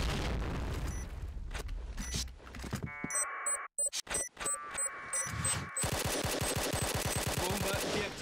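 Rapid automatic gunfire and single shots ring out in the video game Point Blank, loud and close, broken by brief electronic game tones and a short pause before a final sustained burst of fire.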